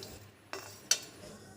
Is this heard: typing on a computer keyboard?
no